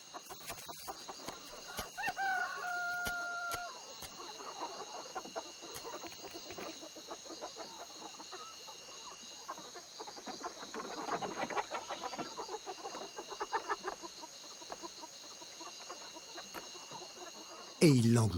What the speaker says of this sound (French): À la vigueur de son chant, ce coq semble particulièrement content de son repas.